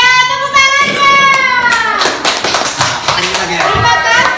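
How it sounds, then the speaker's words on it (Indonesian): Children in a classroom clap their hands in a short burst of scattered claps, with children's voices and sung or chanted tones running through and under the clapping. "Iya, tepuk tangannya."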